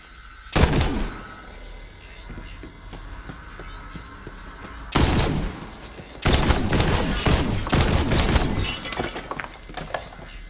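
Gunfire in Borderlands 3 aimed at runes through rings: several sharp bursts of shots ring out, some with a glassy, shattering crack, separated by quieter gaps of game ambience.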